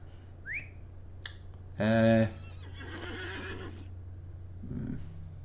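A horse in the Lord of the Rings Online game gives one loud whinny midway, over a steady low hum with faint whistle-like tones and a soft rustle afterward.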